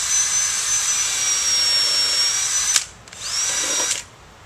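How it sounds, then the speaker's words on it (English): A power drill bores through an old, tough 4x4 timber with a loud, steady whine for about three seconds. After a brief stop it runs again for one more short burst, then cuts off. "So I'm just going to drill through the 4x4 and until I put a dimple in the other one"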